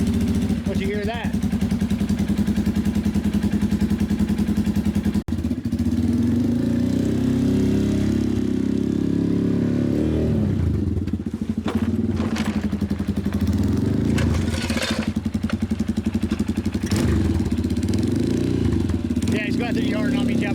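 A Lifan KP Mini 150/200cc motorcycle with an upgraded exhaust, big bore kit and carburetor upgrade revs loudly and close, rising and falling through the throttle as it rides. Voices come through at moments.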